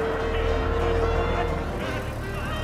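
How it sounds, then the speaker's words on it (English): A brass era car running at about 60 miles an hour gives off a steady, loud, close roar of engine and road noise that holds constant throughout. "60 miles an hour in a brass era car is pretty exhilarating, you know, because of the noise, the sounds."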